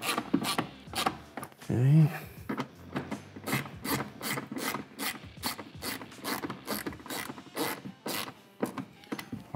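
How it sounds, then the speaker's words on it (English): A ratchet tightens bolts on a Can-Am Defender utility cargo rack in limited space beside the tire, with rapid, close clicking in repeated bursts and a brief voice early on. "the reason why I gotta use a ratchet is because the tire's in the way here"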